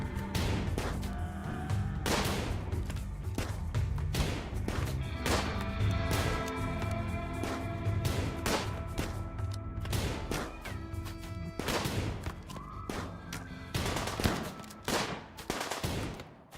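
Gunfire in the video game RimWorld, rapid bursts of sharp shots and heavy thuds that repeat densely and loud over a low rumbling game soundtrack.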